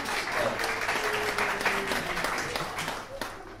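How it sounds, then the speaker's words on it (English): Wedding guests applaud steadily through a reception speech, a dense, fairly close wash of clapping that stays even for the whole stretch and fades slightly at the end. "I didn't think he deserved a round of applause."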